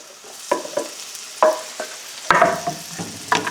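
Pan frying eggs with spinach and small pieces of tomato, soft sizzling and a few stirring scrapes and clatters of a utensil, close by, with no talking.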